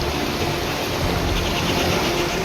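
Heavy torrential monsoon rain pours steadily in Alappuzha district, Kerala, where residential areas are flooded, a loud, dense, continuous roar of downpour with no break and no talk.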